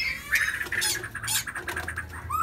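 Oriental magpie-robin calls ring out close by in a forest: a run of bright, squawking notes and whistles, several in quick succession, with no talking.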